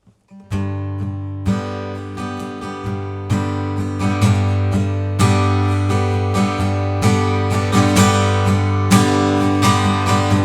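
Acoustic guitar strummed in a steady rhythm, moving from soft to medium to loud, building gradually to louder, fuller strums over several bars.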